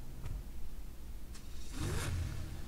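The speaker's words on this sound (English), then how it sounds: "I'm gonna get in the car and I'm gonna let the engine start" A car engine in GTA V starts with a quick rising rev near the end, after a couple of faint clicks and a short stretch of low idle rumble.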